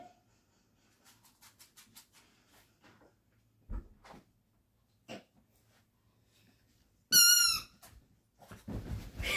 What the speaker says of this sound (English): Y'all may hear a pup squeak.